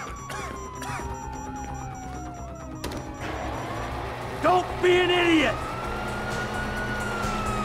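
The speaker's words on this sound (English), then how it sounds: "You hear that? Sirens!" Police sirens wail in the Grand Theft Auto V prologue, rising and falling through the scene with loud bursts of action and a shouted voice over the top.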